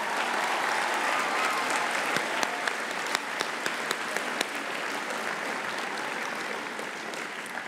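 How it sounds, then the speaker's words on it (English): Sustained applause from a large audience at a 2022 charter school commencement ceremony, honoring the graduates; dense steady clapping with a few sharper claps standing out, fading slightly toward the end. "Let's give them a big round of applause"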